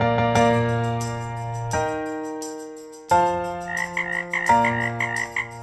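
A loud frog croak in a children's ocean animal sound song, made of long, deep, resonant tones broken into several croaks with brief pauses, followed by a higher warbling call. The sound stands alone with no speech.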